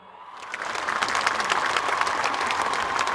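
Applause from a concert audience swells quickly and holds dense and loud, many hands clapping together with no voices over it.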